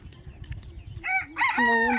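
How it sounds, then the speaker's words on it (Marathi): Hens cluck and squawk loudly in a burst of agitated calls while sitting on eggs, rising over a low background rumble after a quieter start. "कोंबड्या बसल्या अंडीला त्याच्यामुळं कालवा करतात"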